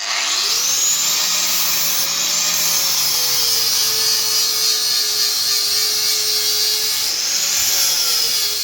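An angle grinder shaping a steel frame rail on a custom Triumph rigid chopper, a loud continuous high whine that shifts in pitch as the disc bites and eases, close and unbroken.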